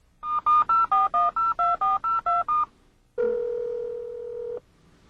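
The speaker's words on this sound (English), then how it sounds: "The integrated cellular phone will automatically call the BMW Emergency Call Roadside Assistance Service Center." Integrated cellular phone in a BMW E38 placing an emergency call: a quick run of about ten touch-tone dialing beeps, then a short pause and a steady ringback or dial tone, loud and close with no talking.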